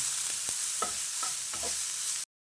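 Loud, dense sizzling of onions frying in hot oil as a tempering for brinjal gojju, with a few clinks and scrapes of stirring, then it cuts off abruptly.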